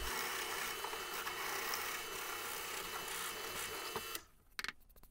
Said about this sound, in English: And I'll do that with a 1-inch Forstner bit.